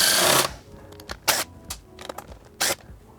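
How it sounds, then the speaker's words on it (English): A 10mm socket works the fender fasteners loose on a 2025 Honda Grom, giving a burst of scraping followed by several short metallic clicks and ratchets spaced apart, close up and with no talking. "These 4 10mm head fasteners will need to come out. I'm using a 10mm socket for that purpose."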